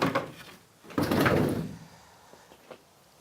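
A Citroen Relay van's sliding side door with redesigned runners is rolled along its track, a rumbling slide in the middle flanked by softer clunks and a sharp knock at the end.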